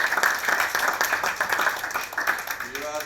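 Audience applause fills a panel discussion hall, steady dense clapping from many hands throughout with no speech over it.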